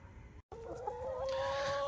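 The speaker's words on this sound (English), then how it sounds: "the rooster, he is so funny when he crows in the morning" A rooster crows nearby, its strained call rising and stretching out after a brief gap, over faint farmyard background noise.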